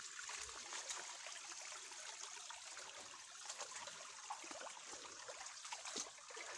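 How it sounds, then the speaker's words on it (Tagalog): A small stream flows steadily nearby, a continuous bright babbling and trickling of water with no voices. "Itong maliit na ilog na to."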